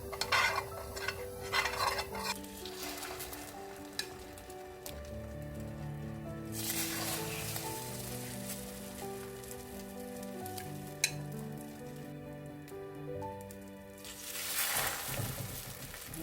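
Egg-coated pollock pancakes frying in cooking oil on a griddle over low heat, a steady soft sizzle with occasional stirring and utensil scrapes, close and quiet, with no voices.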